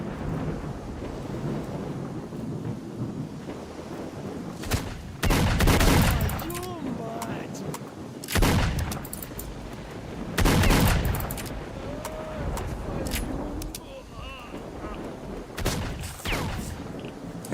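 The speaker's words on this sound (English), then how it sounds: "Who's shooting at me now?" Gunfire aimed at the player in a video game: heavy bursts of shots and booming volleys crack out at intervals over a rumbling background, with a voice talking between them.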